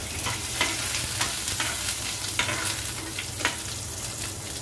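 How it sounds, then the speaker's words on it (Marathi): Cumin seeds and garlic cloves sizzle steadily in hot oil in a pan, a continuous crackling fry with a few sharper pops and stirring clinks scattered through, close and alone without any voices. "इथे तेल तापलंय, त्यामध्ये आपण घालतोय जिरं, 10-12 लसणाच्या पाकळ्या घेतल्या"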